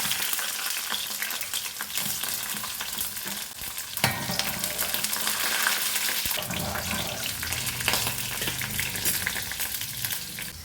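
Garlic frying in hot oil with mustard seeds and fenugreek, a loud continuous sizzle with occasional pops and stirring clatter, close and steady, with no one speaking.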